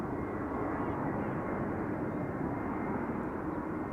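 An airplane arrives on runway 18R, the Polderbaan, at Amsterdam Schiphol Airport with a continuous, distant low roar of jet engines that holds steady throughout, with no talk.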